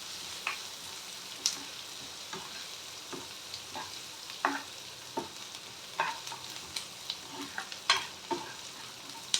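Onions sauté in a pan for an idli batter tempering, with a soft continuous sizzle underneath and frequent clicks and scrapes of a spatula stirring at an uneven pace, close and without talk.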